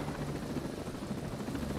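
A helicopter in the Ghost Recon Breakpoint video game drones steadily throughout, a low, continuous rotor rumble at moderate level with no voices over it.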